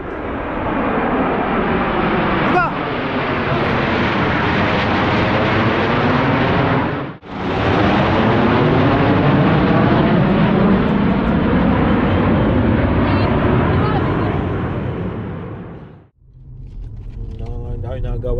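A jet airplane passes overhead near Toronto, a loud, broad roar that swells and holds, dips briefly, then rises again before cutting off, with voices faint underneath.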